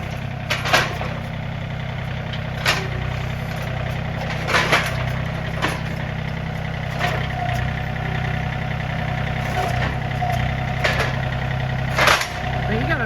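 A low, steady tractor engine idles throughout, its rumble punctuated by several sharp clacks and knocks at irregular intervals.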